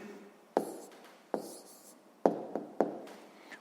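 A pen writes an answer to a sixth-grade maths exercise on paper in a quiet room, five or six short scratching strokes at close range, each starting sharply and trailing off.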